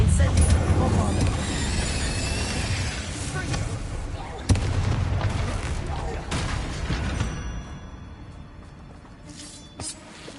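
Bombarda spell blasts in Hogwarts Legacy land as heavy, booming explosions, loud and dense at first with a sharp crack midway, then thinning into fading rumbles and debris. Game combat noise sits under them.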